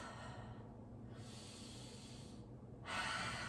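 Deep breaths during a gentle de-stressing stretching session, soft airy inhales and exhales close to the microphone, with a stronger breath toward the end and no talking.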